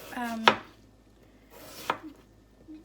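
A knife shreds jicama on a cutting board in two sharp, close chopping strikes spaced about a second and a half apart, with quiet pauses between them.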